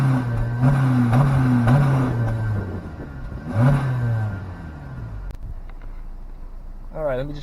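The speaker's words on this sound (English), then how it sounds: "just for the hell of it, I'm going to give you guys an exhaust clip" A 2017 Honda Civic hatchback's exhaust revs loudly and close by, rising and falling through a few blips with a steady engine drone, then cutting off to near quiet before a brief whine at the end.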